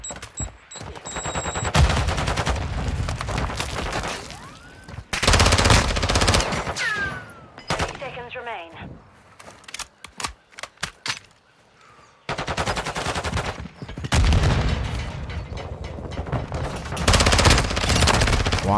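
MP7 submachine gun fire during a ranked video game match: rapid bursts of automatic shots come in several loud clusters, broken by short gaps with scattered single cracks and other game effects.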